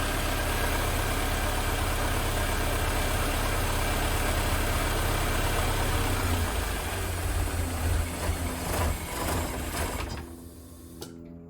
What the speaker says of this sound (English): the engine cut out when I did that